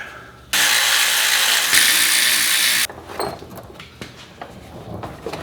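A ratchet tightens the bolts on new Moog shock absorbers during a Chevrolet Silverado suspension install, giving about two seconds of loud, steady rapid clicking. Quieter clanks and handling noises follow.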